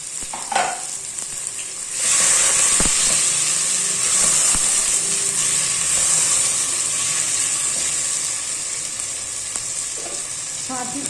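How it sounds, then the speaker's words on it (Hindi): Chopped tomato and green chilies fry with chicken in a hot pan, with a brief soft sizzle and then a loud, steady hiss after about two seconds, broken by a few sharp clicks of stirring that fade slightly toward the end. "अब हमने टमाटर और हरी मिर्ची की भुनाई कर लेनी है"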